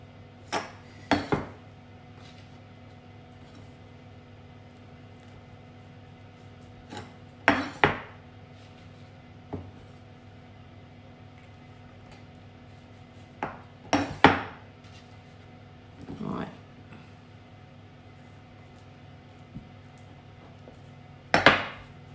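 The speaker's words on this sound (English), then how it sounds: "So now we've got them all on the tray like that" Sausage rolls being set down on a metal baking tray in a kitchen, giving scattered clinks and scrapes at irregular intervals, close and moderately loud, with quiet pauses in between and no talking.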